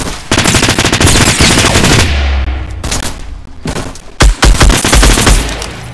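Rapid automatic gunfire in the Fortnite video game, loud dense bursts that pause briefly midway before resuming with sharp close shots and continued rattling fire.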